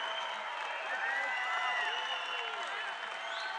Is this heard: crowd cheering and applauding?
yes